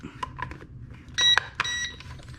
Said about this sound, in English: I heard another beep.